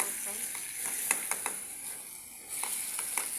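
Potatoes sizzle in hot oil in a curry pan as they are stirred, a steady close hiss broken by clicks and scrapes of the spoon, with a brief dip in the middle.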